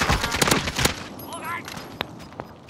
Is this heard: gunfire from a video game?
yes